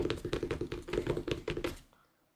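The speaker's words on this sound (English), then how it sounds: "Oh, Adrian's typing." Rapid, even keyboard typing in a quick clattering burst of about a dozen keystrokes, close and fairly quiet, stopping abruptly.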